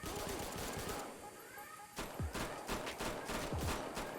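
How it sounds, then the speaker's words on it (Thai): Gunfire in the mobile gangster game Wars: Polygon Gangster comes as rapid bursts of shots, with a quieter pause near the start and then repeated sharp shots close up, under faint background noise. "ยิงให้ลูกกระสุนรีโหลดกันโอเคครับ"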